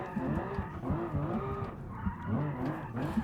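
Tires squeal and skid as a custom-built high-power car drifts in a driving game, a steady wavering screech over engine drone, loud and continuous with no talk.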